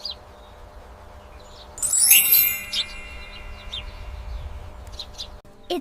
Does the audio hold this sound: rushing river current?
no